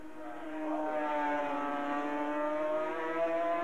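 Sidecar racing outfits scream past on the pit straight at Bathurst, a sustained high-pitched engine wail with a slowly falling pitch as the machines sweep by, loud and close with no talk.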